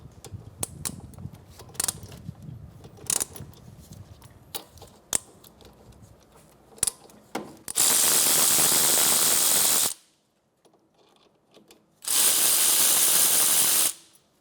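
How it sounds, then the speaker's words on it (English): A 14mm socket ratchet loosening the brake caliper bolts on a 2012-2016 Subaru Impreza makes close, irregular clicks. Two long, loud bursts of steady hissing follow, with a quiet gap between them. "remove your caliper and bolts."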